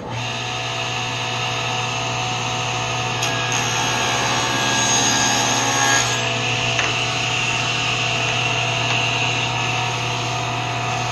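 A power saw cuts wood for a herringbone box, a loud steady whine that holds for the whole stretch, its pitch shifting slightly as the blade works through the board.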